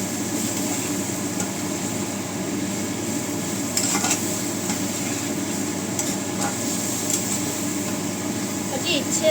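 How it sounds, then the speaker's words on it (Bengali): Paneer capsicum masala being stir-fried in a pan, a steady low sizzle and stirring scrape running throughout with a few brief clinks near the middle. "একটু কষিয়ে নিয়ে"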